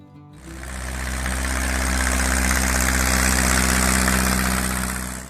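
A 1960s Ford 5000 tractor engine idles steadily after a brief quieter start, giving a loud, continuous low diesel rumble with mechanical clatter, close by and alone.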